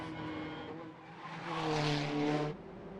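A TCR touring race car screams through the final turns of Macau's Guia street circuit, its engine note rising to a loud, sustained high-revving howl before cutting back, with a steady drone underneath throughout.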